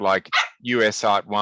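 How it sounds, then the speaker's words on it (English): A Cavalier spaniel barks and yips close by in a short run of sharp, voiced calls. "that's my dog saying that she wants dinner"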